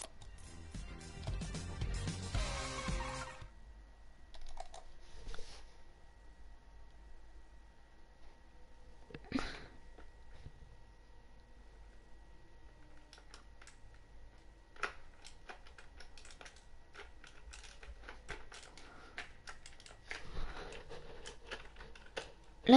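Computer keyboard keys are tapped in scattered irregular bursts during keyboard-and-mouse gaming, quiet and close, after a loud noisy rush at the start and with occasional louder clicks and thumps.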